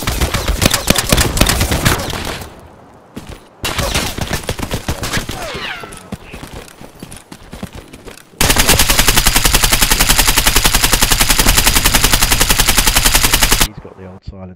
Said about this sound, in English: Silenced AK